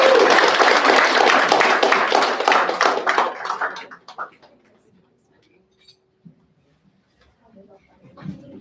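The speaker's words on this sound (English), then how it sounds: "One more round of applause." Applause from the audience at a citizenship ceremony, steady and dense for about four seconds, then fading into quiet with a few faint scattered sounds.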